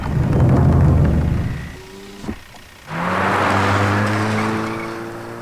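Car in a movie scene roaring close by, then tires squealing in a sharp skid, a brief lull, and the engine revving back up with a rising whine, without talk.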